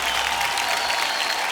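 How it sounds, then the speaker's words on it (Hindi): Studio audience applause on a quiz show, a brief dense burst of clapping from a crowd, steady and moderately loud. "जनता से अनुरोध है कि जोरदार तालियां बजती रहें"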